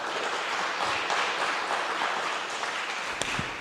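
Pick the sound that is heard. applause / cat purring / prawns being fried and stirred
applause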